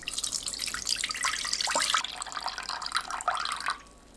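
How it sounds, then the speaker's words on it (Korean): Pickling brine is poured off gomchi leaf pickles: a steady splashing trickle of liquid runs for about four seconds, close and fairly loud, then stops abruptly. "하루 뒤 장아찌물을 따라내세요."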